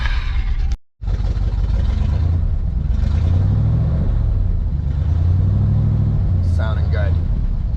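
A car engine idles roughly as it warms up, a steady low rumble running throughout with brief chirps and a short dropout near the start.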